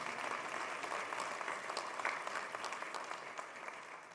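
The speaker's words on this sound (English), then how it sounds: "Can we please give a round of applause to Mark Stern for his amazing job?" Steady applause from an audience at a synagogue sanctuary dedication, a dense, even clapping that holds for the full stretch without voices.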